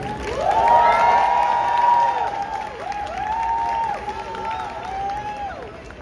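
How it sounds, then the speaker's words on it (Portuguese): A live audience at the Arnold Talks 2025 event cheers, whoops and applauds as a couple is welcomed onstage; shouts rise and fall over steady clapping, loud and close throughout. "uma salva de palmas gigante para Paulo Musi e Roberta Carbonari."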